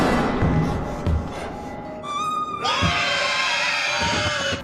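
A woman's scream in a haunted-house horror film, rising into a loud, sustained shriek over a tense, eerie background of film sound.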